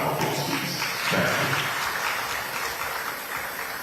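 Audience at a leadership conference in Nigeria applauds steadily for nearly four seconds, a dense, even wash of many hands clapping at fairly close range with no voices over it.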